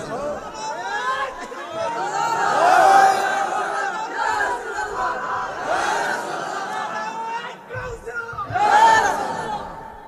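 A large crowd at a religious gathering chants slogans together, with loud swelling shouts in waves and a constant roar of many voices.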